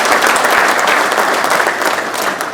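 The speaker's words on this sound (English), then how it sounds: "let's give Ria a round of applause" A convention crowd claps in a loud, steady round of applause for a delegate, a dense wash of handclaps lasting throughout with no speech.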